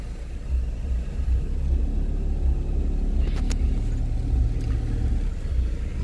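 Inside a car crossing the Terceira Ponte bridge, a steady low engine and road rumble drones throughout, with a few brief clicks or knocks midway and no talking.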